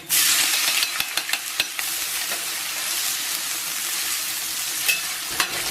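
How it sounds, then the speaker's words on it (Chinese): Pork belly sizzles and spits in a hot wok with a little oil, a loud continuous fry with scattered crackles and a few sharp clicks of stirring near the start. "然后把切好的五花下到锅中"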